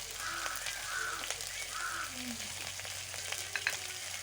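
Goat mutton frying with spices in oil, a steady close sizzle with occasional spatters, while faint birdlike calls sound now and then in the background.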